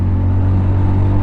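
A 2023 Yamaha FZS Fi V4 motorcycle engine drones loudly and steadily, close up, with a constant low hum and no other sounds.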